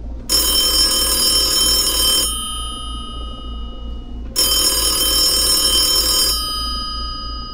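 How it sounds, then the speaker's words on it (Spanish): A telephone rings loudly in two long bursts of bright, metallic electronic trill, each about two seconds, separated by a pause, over a low steady hum. "El teléfono suena"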